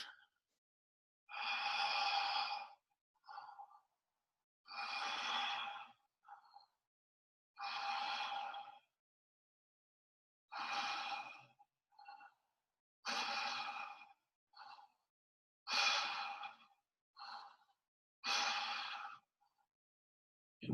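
Slow, deep breaths during a guided breathing exercise for the lungs, about eight long, audible breathy exhales in an even rhythm, each followed by a short quiet inhale, close and clear with no talking.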